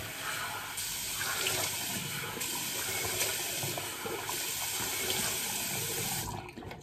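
Tap water runs steadily into a sink, a continuous close splashing hiss that cuts off near the end.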